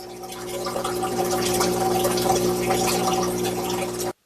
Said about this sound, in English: We can hear the water coming out of there.